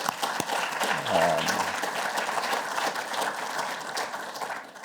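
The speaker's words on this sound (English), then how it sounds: "let me offer them a round of applause already" An audience at an academic honorary lecture gives a round of applause for the team, a steady wash of clapping with a brief voice heard faintly underneath early on.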